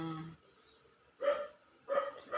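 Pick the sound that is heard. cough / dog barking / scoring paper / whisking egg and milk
dog barking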